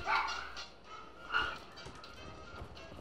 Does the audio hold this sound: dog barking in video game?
yes